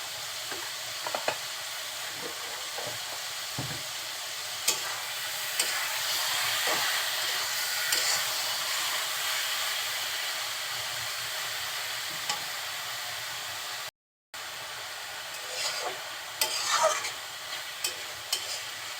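Shredded cabbage sizzles and hisses in a pan under steady stirring, with scattered scraping knocks, a long even frying sound broken once by a brief gap.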